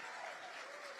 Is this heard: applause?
yes